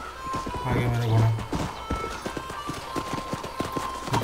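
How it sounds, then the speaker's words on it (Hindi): Horse arriving in the Red Dead Redemption video game, hooves clip-clopping in a steady close rhythm, with a brief neigh early on and someone talking over it. "आ गया मेरा घोड़ा"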